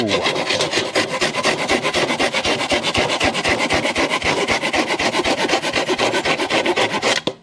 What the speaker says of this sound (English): a timed cut with a Oregon handsaw to see how fast that is